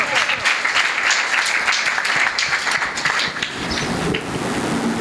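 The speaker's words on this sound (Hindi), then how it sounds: "अपने लिए भी बहुत सारी तालियां।" Church congregation applauding during a Sunday service, a dense, steady wash of many hands clapping that holds strong for the full stretch, with a slight dip near the end and faint voices mixed in.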